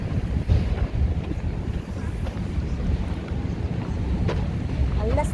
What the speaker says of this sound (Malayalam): നല്ല സുഖമുള്ള കാറ്റ്.